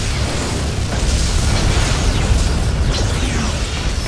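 A Borg vessel explodes in the space combat game Star Trek: Legacy, a loud, sustained roaring blast with rumbling bursts that continues steadily across the whole stretch without any talk.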